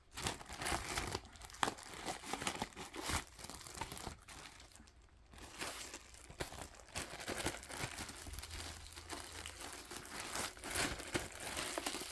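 Paper cross-stitch charts and their plastic packaging crinkle and rustle continuously up close, steady crackling handling with brief pauses and no talking.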